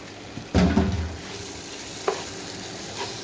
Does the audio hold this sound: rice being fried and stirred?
yes